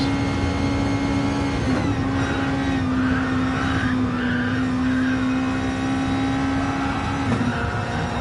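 Super GT race cars passing through the fast Porsche curves, with a continuous loud engine drone and steady high-pitched whine holding pitch throughout, shifting slightly as the cars sweep through the bends.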